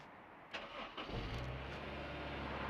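A cold 2008 Honda S2000 starts with a short cranking whir, then catches and settles into a steady, fairly high idle of about 2,000 RPM, close and continuous with no talking.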